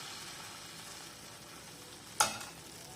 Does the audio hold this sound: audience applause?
no